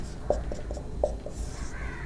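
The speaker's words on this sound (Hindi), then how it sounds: "क्वेश्चन फिर से लिखते हैं।" Someone writes out a matrix problem, a few quick soft strokes and taps of pen or chalk in a short, close burst over a low steady background hum.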